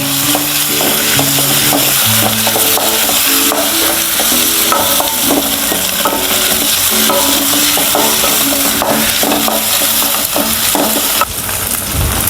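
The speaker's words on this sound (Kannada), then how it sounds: "ಒಂಜಿ ಚೂರು ಮಂಜಾಲ್ದ ಪೊಡಿ ಇಂದೇನಂತ ಮಿಕ್ಸ್ ಮಲ್ಪುಲೆ" Chicken curry being stirred in a pan with ginger-garlic paste and a pinch of turmeric powder, a steady scraping and frying sizzle running continuously at close range with no talk.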